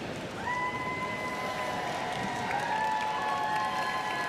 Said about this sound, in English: I'm sure that cheering probably sounds a lot louder to them